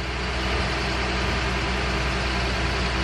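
Steady, close engine drone from a garbage truck idling outside a window in the early morning, a constant low rumble with no break or change.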